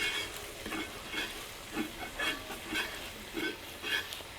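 Beef fry being stirred in a pan, a soft sizzle under rhythmic scraping strokes that repeat about every half second, fairly faint and close, no talk.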